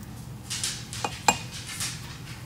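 Metal measuring spoons clink and scrape against dishes while baking powder and salt are measured for a microwave mug pizza, a few light separate clinks and taps close by, with no talking.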